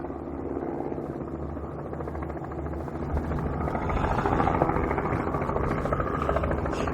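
A helicopter-like aircraft engine drones steadily throughout, a dense low rumble and buzz that swells slightly midway, with no voices.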